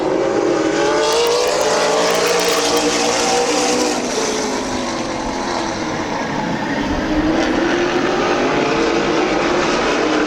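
Race cars roar around a speedway in a continuous loud engine drone, pitch sweeping up and down as the cars pass, with a pack running two grooves wide and no talk over it.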